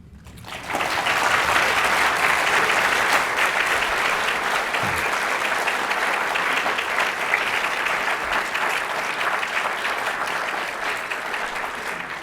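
A large audience breaks into sustained applause after a literary reading, a dense, loud wash of clapping that begins abruptly and holds steady for over ten seconds before tapering slightly.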